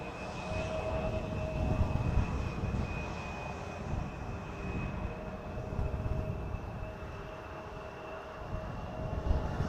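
A SkyWest Embraer jet taxies at Vancouver Airport, a faint distant engine whine with a steady high tone over a low continuous rumble.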